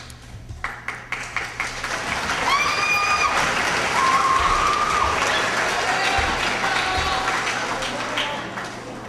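Audience clapping at a 2012 HWMS eighth-grade graduation ceremony, held in the evening; starts with a few sparse claps, then swells into sustained, dense applause that holds steady, with faint tones and crowd noise mixed in.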